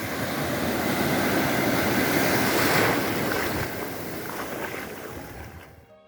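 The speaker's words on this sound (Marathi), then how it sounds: "कयाकमध्ये बसून समुद्रात उतरलो" Sea waves around a kayak off the Goa coast: a close, continuous wash of surf and rushing water with wind buffeting the microphone, easing slightly toward the end.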